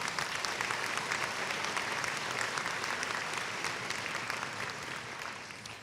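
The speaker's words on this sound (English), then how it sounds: "Let's give them a round of applause." A large commencement audience applauds steadily for faculty and staff, a dense, continuous wash of clapping that holds at full strength for several seconds with no break and tails off slightly at the end.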